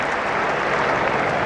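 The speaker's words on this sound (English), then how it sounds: "And listen to that roar. It's like a football crowd." Cricket crowd at a 1974/75 Ashes Test in Brisbane, a loud dense roar of applause and cheering, sustained and close throughout.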